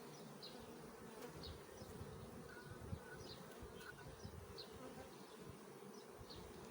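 Honey bees buzz steadily in an open hive from a strong colony, a dense continuous hum close by with individual bees droning past now and then.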